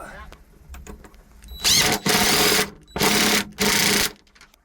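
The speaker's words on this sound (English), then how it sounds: "All right, I'm gonna tighten the first one up, Gordon." A power driver tightens a bolt for a safety jackline on the deck of a C&C 39 sailboat, four loud whirring bursts of about a second each with short gaps, close by, after some quieter knocks and shuffling.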